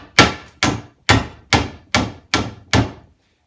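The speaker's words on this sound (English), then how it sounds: "you just need a hammer, and the key is just to hit the nail straight on the" A hammer knocks nails flush into wooden trim with seven sharp, evenly spaced strikes about half a second apart, loud, close and alone.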